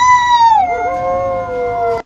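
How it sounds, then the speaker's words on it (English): A person howls with joy outdoors during a wilderness survival contest, a single loud, sustained wavering howl that drops in pitch partway through and holds before cutting off. "started howling like crazy"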